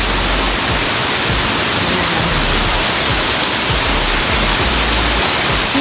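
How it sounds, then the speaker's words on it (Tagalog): Kilangin Falls in Liliw, Laguna, a steady, loud, broadband roar of falling water heard close up, unbroken and without any voices. "Silangin Falls."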